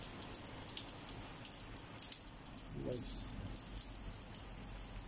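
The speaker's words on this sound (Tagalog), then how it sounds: "basang-basa ako sa ulan" Heavy rain pours steadily as a dense, even hiss close by, with someone speaking briefly over it.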